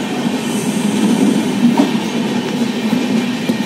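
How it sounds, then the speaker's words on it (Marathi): The 50104 Ratnagiri–Diva passenger train pulls into platform 2 at Sangameshwar station in Konkan, a loud, steady rail rumble with faint wheel clatter throughout. "प्लॅटफॉर्म नंबर 2ला आलेली आहे ट्रेन आहे 50104 रत्नागिरी दिवा पॅसेंजर"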